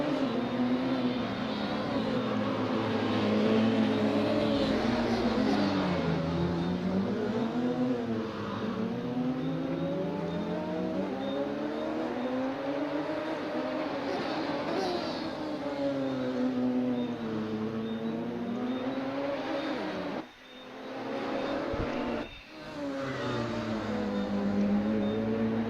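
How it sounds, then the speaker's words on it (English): Sim-racing game cars at Bushy Park Circuit drone continuously with rising and falling engine pitch like shifting revs, a steady mid-level roar with two brief dropouts near the end. "if I'm clear enough over the audio of the cars, and if the cars are loud enough for you"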